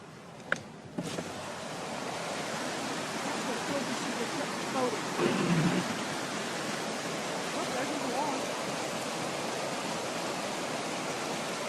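Floodwater rushing through a creek overflow during an Ozark flood, a steady broad roar of moving water close by with a brief voice near the start.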